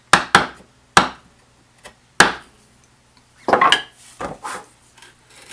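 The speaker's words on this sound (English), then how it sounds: "start to clean these up with chisels" A chisel pares wood to fit a tenon, giving a series of sharp, close woody knocks and scraping cuts, several spaced strikes followed by a denser cluster of shorter paring strokes, with no talking.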